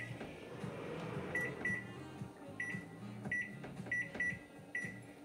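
A stove control panel set to broil on high gives a run of short, faint electronic beeps in an irregular rhythm over a low background hum.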